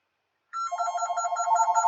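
An electronic telephone ring in the Graveyard Keeper game starts abruptly after a short silence, a rapid warbling trill of bright repeated tones that keeps going, clear and fairly loud with no voices.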